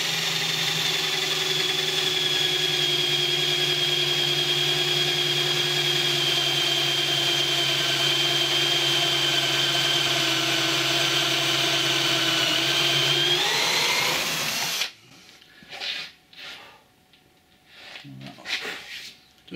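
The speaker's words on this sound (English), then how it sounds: "This is actually the base, and this is the underside of the base that I'm drilling into" A power drill bores into the underside of a wooden chuck box base with a steady, loud, high whine that holds for about fourteen seconds, then winds down and stops. Quieter handling and faint clatter follow.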